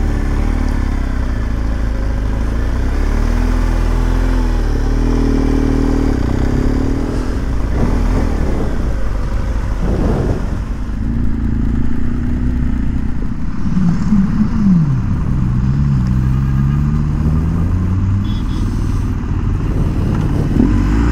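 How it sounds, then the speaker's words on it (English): A group of motorcycles rides down a country lane, their engines a loud, continuous mid-pitched drone with rising and falling pitch as the bikes pass close by. "I don't think they were expecting to meet 32 Evel Knievels riding down this lane track today."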